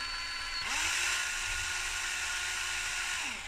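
A high-pitched small drill whines steadily, its pitch shifting slightly as the bit works through model railway layout material, loud and close throughout.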